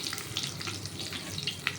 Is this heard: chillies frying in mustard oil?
yes